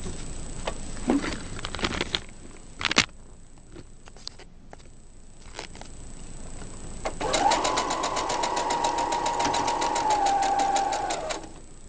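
Sewing machine stitching a quilted coaster, a steady, fast mechanical run of needle strokes lasting several seconds, close and loud, preceded by softer handling clicks and a high constant whine, with no talking.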